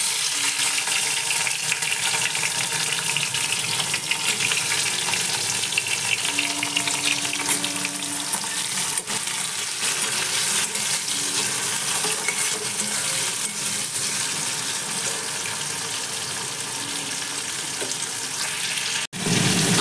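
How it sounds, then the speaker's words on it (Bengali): Tomato fries on high heat in a pan for a potato and pea-shoot vegetable curry, a dense continuous sizzle with occasional stirring scrapes, close and loud for the whole stretch. "আঁচ বাড়িয়ে টমেটোটা ভালো করে ভাজতে হবে"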